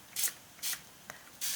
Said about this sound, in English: Let's just spray the water and see.